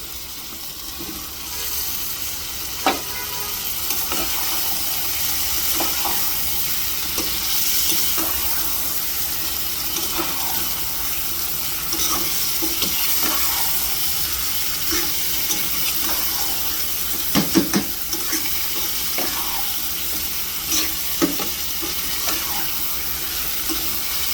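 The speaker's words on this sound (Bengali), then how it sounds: "ছোটো ছোটো দুইটা আলু কেটে রেখেছিলাম, এখন আমি এটাকে দিয়ে দিব।" Potatoes go into a pan of frying chicken curry, giving a steady sizzle with scattered scraping and clinking from stirring, moderately close and without talk.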